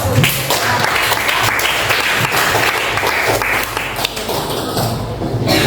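A classroom of students applauds together, with dense, steady clapping that fills the room and keeps going for several seconds before tapering slightly near the end.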